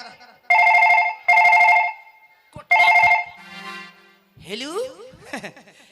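A telephone rings in three loud bursts during a stage comedy play, followed by a brief beep and a swooping electronic tone.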